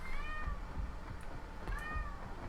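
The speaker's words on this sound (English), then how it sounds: "Oh god, this cat." A pet cat meows loudly and close by, giving two drawn-out meows about a second apart over a steady background hum of game audio.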